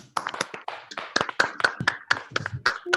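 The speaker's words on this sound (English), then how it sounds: "can you all please give a round of applause to Rachel?" A round of applause for a presenter at an online agile coaching talk: scattered, uneven claps and taps from a few people, close and dry, in irregular bursts.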